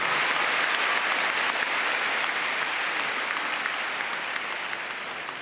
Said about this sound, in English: Great big round of applause for Karen McCarthy, Joanne Hughes and Ziggy.